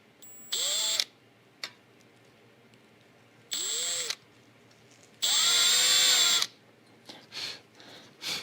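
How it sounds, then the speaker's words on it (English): A power drill whirs in three separate bursts, rising in pitch as it spins up, the last run longest, with small clicks and handling noises between. "I'm going to try to drill into that original one."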